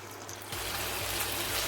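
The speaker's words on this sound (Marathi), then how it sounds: "फोडणीमध्ये दोन चमचे पाणी घालते" Two spoonfuls of water poured into a hot tempering of cumin, green chilli, white sesame and curry leaves for dhokla; a sudden burst of spitting, bubbling sizzle that stays loud and steady after a quieter start.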